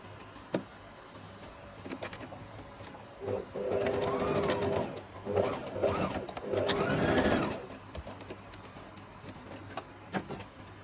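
Sewing machine stitching the ends of a half circle flare maxi skirt, running in three close bursts of a few seconds each with short pauses between, near and clear over a quiet room.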